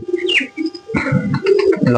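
Pet pigeons coo at close range in a short burst, deep throaty calls rolling into one another, loud and clear with no talking.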